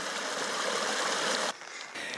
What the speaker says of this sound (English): you're bound to come across these crystal clear streams and tributaries